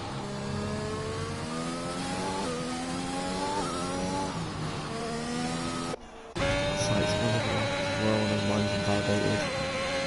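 A racing car engine screams through a flying lap at the Belgian round of a video game racing championship, loud and close, revving up through the gears with rising harmonics, one brief drop-out midway, then sustained high revs.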